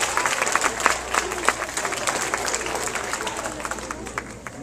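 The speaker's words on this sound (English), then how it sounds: "Let's give her a big round of applause." Students at a school assembly applaud in a dense, steady wash of clapping that fills the room and slowly thins toward the end, with crowd voices mixed in.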